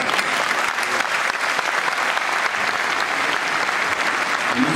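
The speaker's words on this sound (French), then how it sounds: "à applaudir notre parrain" A dense, steady round of audience applause fills the hall at a Senegalese youth leadership day event as the sponsor is welcomed, continuous clapping without pause throughout.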